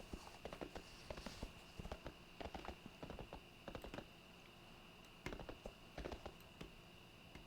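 Horse hooves clip-clopping in rhythmic clusters as a mount is ridden in World of Warcraft, crisp and moderately close over a faint steady background hum.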